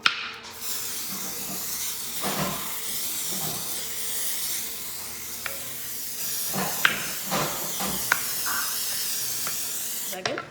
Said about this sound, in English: you spray on the top and bottom and the surroundings